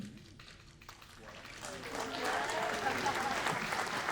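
An audience at a community band concert breaks into clapping, starting quietly and swelling into fuller, steady applause over the last couple of seconds.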